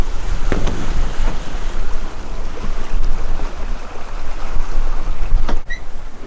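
A 33-foot sailboat under way in steady wind on the open sea, with a constant loud rush of wind and water against the hull and a few faint creaks.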